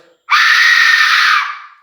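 A single loud, piercing shriek from a blown Aztec-style death whistle rises abruptly, holds for over a second as a harsh, screaming tone, then fades.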